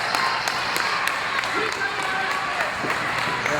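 Wrestling crowd at an APCW independent show cheers and claps in a steady, dense wash of noise with sharp claps scattered through it, while a commentator talks over the top.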